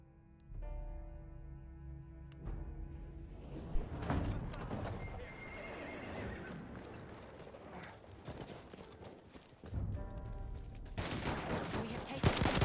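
Horses in a video game gallop with clip-clop hooves and neigh and whinny repeatedly, amid loud bursts of game gunfire and machine-gun fusillades, with talk over the noise.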